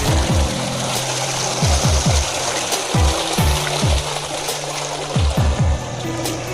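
Water from a 700-foot farm bore well gushes steadily out into a holding tank, a constant splashing rush with recurring low gurgling surges, fairly close and with no voices.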